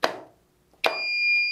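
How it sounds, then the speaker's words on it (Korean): An EOCR overcurrent relay trips in a motor control circuit, and a buzzer starts sounding: a steady two-tone electronic beep held continuously after a short sharp click of the contactor dropping out. "전동기가 정지하고 부저가 동작되고 표시등 YL이 점등됩니다"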